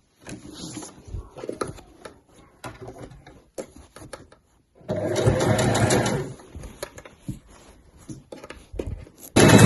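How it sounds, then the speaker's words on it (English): A sewing machine stitching the corner of a weekender bag base: short bursts of rapid mechanical chatter and handling noises, then a sustained loud run of stitching in the middle, close up and alone. "put my foot back down and stitch along"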